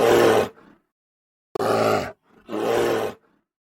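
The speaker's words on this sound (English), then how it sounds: "The bear says, grr," Three short, gruff bear roars come close together, each lasting about half a second, loud and unaccompanied with no voices.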